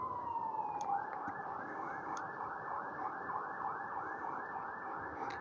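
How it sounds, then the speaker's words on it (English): An emergency vehicle siren wails outdoors on a hot day near trees where herons roost, its rising and falling cycles repeating steadily and fairly loud over a constant background hum. "all you can hear is that freaking siren"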